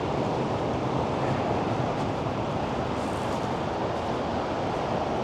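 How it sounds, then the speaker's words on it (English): Waterfall pouring through the lakeside village of Hallstatt in Austria, a dense, continuous roar of rushing water mixed with wind buffeting the microphone, loud and steady with no talk. "There's the waterfall right there. See it going through the town?"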